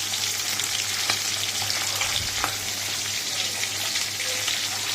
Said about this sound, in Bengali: দেখো ভাজা হচ্ছে।